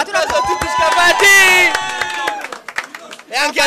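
Audience in an Italian TV studio clapping and cheering, loud and close, a dense burst of claps with shouting voices rising over it before breaking into scattered claps and chatter.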